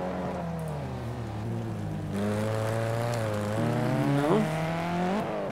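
Mitsubishi Lancer Evolution X rally car in the game Project CARS 2, its engine droning steadily and then revving higher through gear changes, with rising and falling pitch sweeps toward the end.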